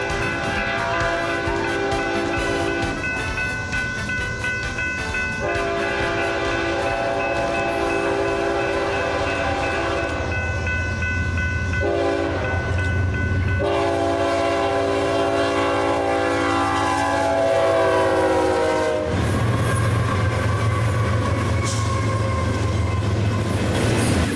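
Freight train passing at close range, with a loud multi-chime horn sounding in long blasts and brief gaps, over a steady rumble of wheels and cars.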